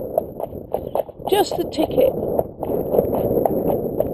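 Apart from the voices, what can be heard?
horse walking along, hooves clip-clopping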